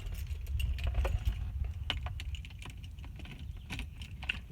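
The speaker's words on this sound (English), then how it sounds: "grab the good old handy dandy keys" Car keys for a Mercedes-Benz jangle and click close by, with a rattling series of small metallic taps and scrapes as they go into the ignition over a low background rumble.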